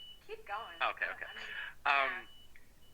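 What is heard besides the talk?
electronic beep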